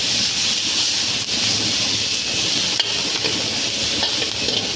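Chopped large onions frying in a pan for a dry anchovy roast, with steady close sizzling and occasional stirring scrapes throughout, no voices.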